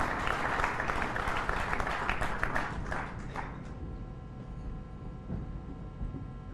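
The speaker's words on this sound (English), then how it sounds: "please join me in applauding a wonderful inaugural speech" An audience applauds after an inaugural speech at a diplomatic conference, dense sustained clapping from a large crowd that gradually thins and fades toward the end.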